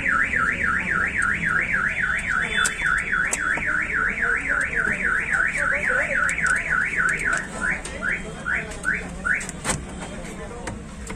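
A loud electronic central-locking alarm siren on a Mahindra Bolero Power Plus wails in a rapid rising-and-falling pattern, then breaks into a few separate chirps before stopping.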